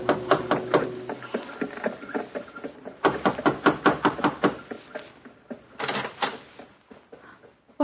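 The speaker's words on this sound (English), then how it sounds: "and knocked on a door." Knocking on a door as a radio drama sound effect, a series of sharp, close raps in quick bursts with short pauses between groups, loud and clear with no talk.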